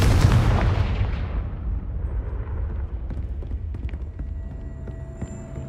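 A Confringo blasting spell explosion in Hogwarts Legacy: a loud, close booming blast that rumbles and slowly decays into lingering low noise and debris.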